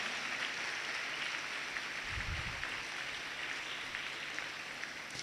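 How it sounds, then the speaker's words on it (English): Audience applause welcoming the guest of honor at an International Nurses Day ceremony at a nursing college, a steady broadband clapping wash sustained throughout at moderate distance, with a brief low thump partway through. "Give a thunderous applause and welcome our guest of honor among us."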